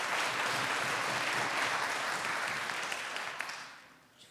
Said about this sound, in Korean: 선생님들, 박수 한번 쳐주세요.